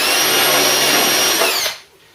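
Close, loud power drill bit cutting through brackets on a Ford Cortina Mk3 under restoration, whining steadily for nearly two seconds before winding down abruptly into quiet.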